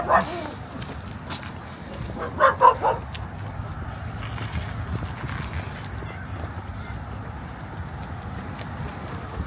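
Dachshunds at an outdoor dog festival give a few sharp barks and yips, a single bark early then a quick cluster, moderately near over a murmuring crowd background.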